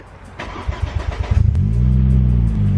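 A Ford Mondeo Titanium X with a 2.5 litre turbocharged five-cylinder engine cranks briefly with rapid starter chatter, catches, and settles into a loud, steady idle close by, with no talking.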